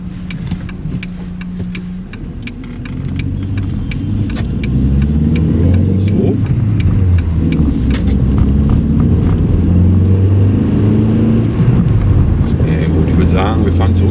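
VW Golf 4 1.6 16V driving in second gear on a test drive while warming up, a steady engine drone that grows louder and rises in pitch, with people talking over it.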